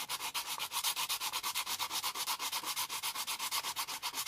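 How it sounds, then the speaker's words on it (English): Wood bowl being hand-sanded with 100 grit sandpaper, a steady rapid back-and-forth scratching with an even rhythm, close and fairly loud with no talk. "just to see where all the lumps are and try and get them out, a little bit of 100 grit sandpaper"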